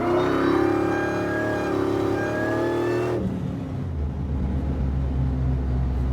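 A truck engine with a new muffler on its exhaust revs loudly and holds high for about three seconds, then drops to a deep, rumbling idle, close and without talk.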